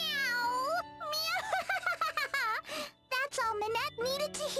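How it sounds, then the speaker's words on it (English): A voice meows twice in a high, cartoonish tone as a cat in the game Bravely Second: End Layer, with game music playing underneath. "Meow! Meow!"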